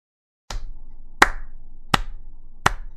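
Four sharp hand claps spaced roughly evenly, close and fairly loud over faint low background hum, with no talking.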